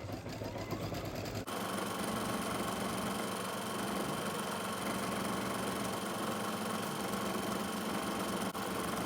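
A sewing machine runs continuously, stitching spider-leg details in a steady, even mechanical whir with a brief change in tone at the very start.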